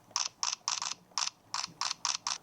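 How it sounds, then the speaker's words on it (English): Fake electronic shutter sound from a Canon R5 Mark II camera: a rapid series of about nine crisp mechanical-style clicks in irregular bursts, close and clear, with no talk. "now when you have electronic shutter on your R5 Mark II, it plays a fake shutter sound"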